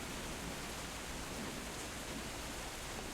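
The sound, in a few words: rain sound effect in a tabletop game session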